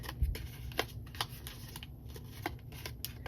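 Crisp paper crinkles and sharp creasing snaps as a sheet is folded into an origami bow tie, several close, irregular taps and rustles.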